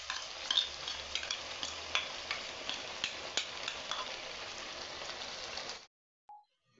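Sauce stirred into soya chilli manchurian in a pan, a soft sizzle with a regular run of spoon scrapes and taps, fairly quiet and close, stopping abruptly into near silence before a brief tone.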